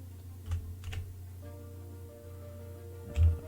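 Computer keys being tapped while entering an Excel formula, a few soft scattered clicks over a quiet background with a faint steady hum.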